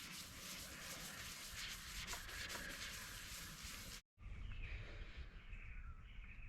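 Foam sanding block rubbed over a fibreglass body for a BSA Bantam beach racer motorcycle, giving a steady, close, gritty scraping that runs continuously, breaks off for a split second, then resumes with a coarser, lower rasp.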